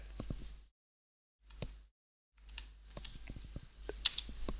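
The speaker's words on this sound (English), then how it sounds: "I'll just type this in." Someone types on a computer keyboard in short bursts of clicking keystrokes separated by brief pauses, close and fairly quiet, with a louder cluster of taps near the end.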